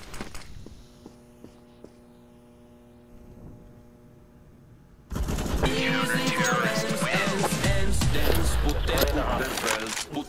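Gunfire in Counter-Strike on the Office map breaks out suddenly after a quiet stretch of faint beeps and footsteps, a loud dense burst of rapid shots and crashing that continues to the end while players talk.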